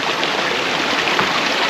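A small, shallow river at a campsite in Kalumpang streams by as a loud, close, continuous rush of water, even and unbroken with no voices.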